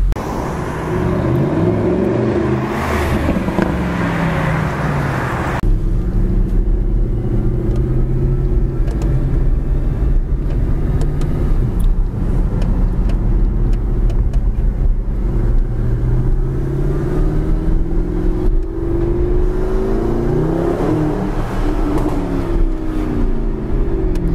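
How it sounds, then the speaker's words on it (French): A deep, steady Mercedes SLS AMG sports car engine idles continuously with a low throbbing drone and slight variations, loud and close, with no talking. "on a un bruit de paquebot à l'arrêt quand le moteur tourne à l'arrêt"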